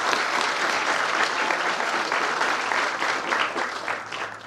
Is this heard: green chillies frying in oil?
no